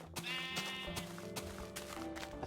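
Sheep bleats from the Minecraft Moderner Beta game, a few short quavering calls at low volume with no talking over them.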